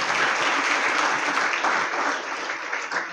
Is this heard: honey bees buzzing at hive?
no